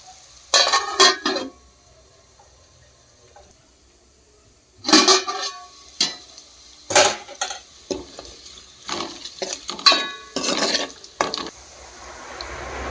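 Turmeric and ginger being mixed into small fish in a pan for a fish curry, heard as scraping, clinking stirs in short bursts with quiet gaps between, close and fairly loud with no talk.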